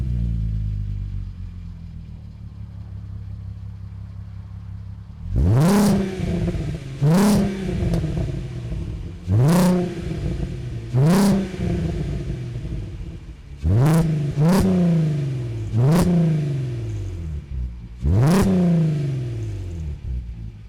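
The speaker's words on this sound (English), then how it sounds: "it's got a Scorpion catback with a resonator in. It sounds good. I'll get some shots of that for you now." A Mk5 VW Golf R32 with a Scorpion catback exhaust and resonator revving repeatedly, about eight sharp throttle blips rising and falling after a low idle, loud and close.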